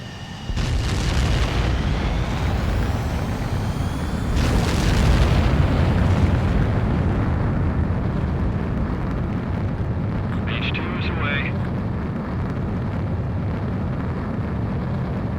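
A jet fighter takes off in the Ace Combat 7 video game, a loud, sustained roaring engine rush with two surging swells early on and a brief electronic beeping tone partway through, continuing steadily to the end.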